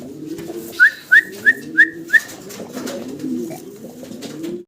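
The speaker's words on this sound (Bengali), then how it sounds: "সাদা লোটন কবুতর। সাদা লোটন কবুতর" A pair of white Lotan pigeons coo low and continuously up close, with a quick run of five sharp, evenly spaced whistling notes near the start.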